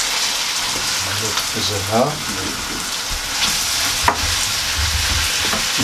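Kofta meat frying in a pan, making a steady soft sizzle with stirring and scraping, while a person talks briefly over it and a sharp knock sounds once.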